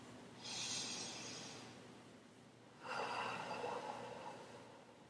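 Two slow, deep breaths, close and quiet, each a long airy rush followed by a pause, with no talking.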